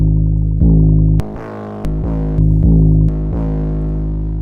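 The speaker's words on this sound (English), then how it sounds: "you have different types of distortion I can trigger" A heavily distorted 808 bass plays short repeated notes with gritty, buzzing overtones and sharp clicks at some note starts, loud and with no talking.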